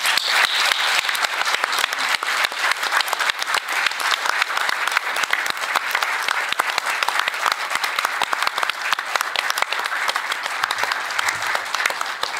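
Warm, sustained applause from an audience at a Mexico–European Union history colloquium paying posthumous tribute to historian Enrique Florescano, steady dense clapping lasting the full stretch without pause.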